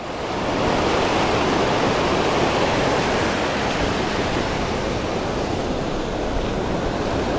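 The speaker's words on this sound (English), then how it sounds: "A little rough out here today, but hey, I can't control the ocean" Rough ocean surf rolls in at the Canaveral National Seashore in Florida, a broad, continuous roar of breaking waves with no letup, loud and close.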